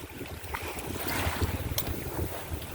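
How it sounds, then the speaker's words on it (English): Waves lap softly against the hull of a cruising sailboat under way, with steady wind buffeting the microphone and no one speaking. "it's nice to be sailing. Up the quiet, just the lapping of the waves"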